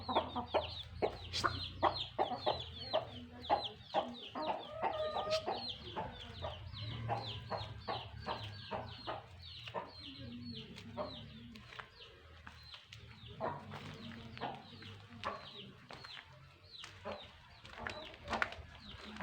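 A flock of chickens and small chicks cluck and peep continuously nearby while pecking at pizza, with dense overlapping calls and short scratchy pecking sounds throughout.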